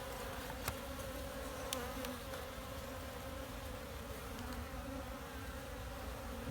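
Honey bees in an overcrowded hive buzz as a dense, continuous drone, close and steady throughout, with a few faint clicks and no talking.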